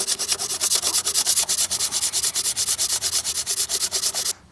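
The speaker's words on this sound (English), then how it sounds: "Okay, we're gonna sand all that off." Steady back-and-forth rasping of sanding on a boat transom, taking off an old transducer mount, loud and close, with even rhythmic strokes that stop abruptly near the end.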